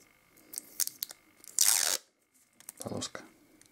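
A strip of ordinary adhesive tape is pulled off the roll during a disassembly, a loud ripping tear lasting under half a second, surrounded by scattered clicks and handling noises.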